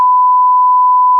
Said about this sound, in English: Josh, censor that one